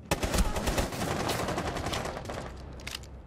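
Dense gunfire crackles in Rainbow Six Siege, with rapid overlapping shots that burst loud early, then thin into scattered cracks and a final cluster near the end.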